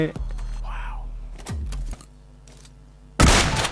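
Gunfire in the mobile game PUBG Mobile: a few sharp shots and clicks over low engine-like droning, then a loud burst of firing near the end.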